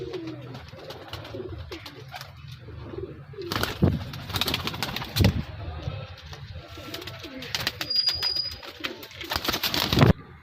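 Salara pigeons coo in low, repeated throaty rumbles close by, with sharp bursts of wing flapping and rustling between calls and a brief high whistle partway through.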